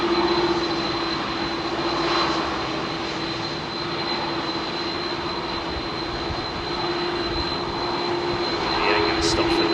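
Airliner jet engines spool up on a rolling departure from Heathrow runway 27R, a loud, sustained broadband roar with a steady whine tone, swelling slightly toward the end.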